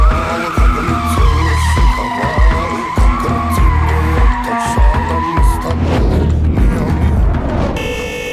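A Mercedes-Benz AMG E63S drifts with loud, continuous tire squeal and engine roar, the skid sustained for several seconds before trailing off into a rougher scrubbing noise near the end.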